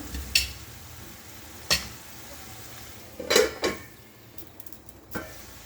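Amaranth leaves (thotakura) stirred and frying in a pan, with a few sharp metal utensil scrapes and clinks standing out above a low, steady sizzle, close by with no talk.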